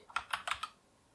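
Typing on a Genesis Thor 660 wireless 60% keyboard with Gateron Red switches: four quick, soft keystrokes in a short burst, close and quiet, then silence.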